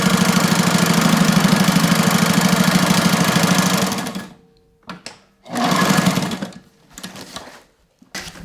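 A sewing machine stitches handles onto a tote bag made from recycled sails, running loud and steady for about four seconds, then stopping and restarting in shorter bursts with pauses between them.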